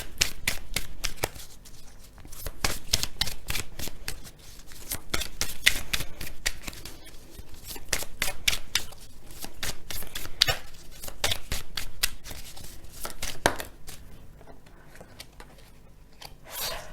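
Tarot cards being shuffled for a reading, a fast run of crisp riffling and flicking snaps that continues steadily and fairly quietly throughout, with no talk.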